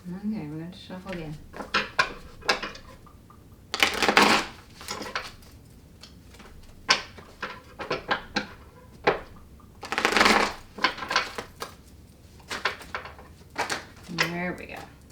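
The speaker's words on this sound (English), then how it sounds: "we're going to shuffle again" Tarot cards are shuffled by hand in repeated bursts of crisp riffling and flapping, close by, with brief pauses and soft tapping between rounds; a voice speaks briefly at the start and end.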